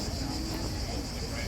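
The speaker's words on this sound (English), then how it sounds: "that is the sound of all the cicadas that are around here" Cicadas in Corfu make a dense, continuous high buzzing drone, loud and unbroken, with no talk over it.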